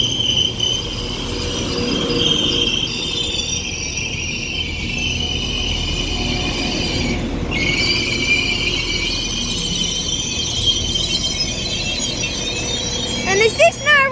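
A Northern class 195 unit, 195 111, rolls into Widnes station on the Cheshire Lines, a continuous loud rumble of wheels on rail with high squealing tones throughout and a brief rattle near the end; a voice speaks over it.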